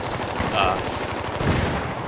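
Dense automatic gunfire in the shooter Battlefield 3, a steady rapid rattle of shots that stays loud and continuous with no pauses for the full length.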